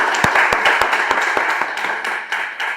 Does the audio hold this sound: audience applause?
yes